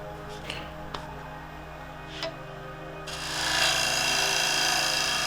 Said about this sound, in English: I'm taking a bit more of an aggressive cut here compared to when I was using the spindle gouge